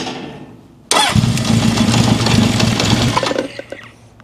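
A 1972 Honda CB750 Four with a replaced head cranks briefly, then fires into a loud, close, rough-running engine that settles toward idle and trails off near the end.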